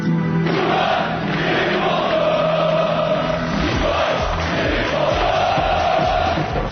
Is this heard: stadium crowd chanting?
yes